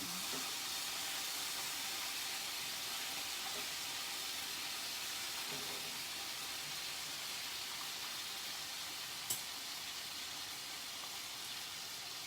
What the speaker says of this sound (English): I'm going to turn over my fried ham. You want to let it get real crispy.